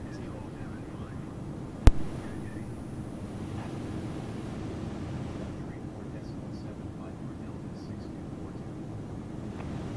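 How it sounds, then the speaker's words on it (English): Steady broadband cabin drone of an Airbus A320 cruising in Microsoft Flight Simulator on Xbox Series S, a continuous low rumble with one sharp click near the start and faint voices beneath. "Enjoy the sounds of the plane."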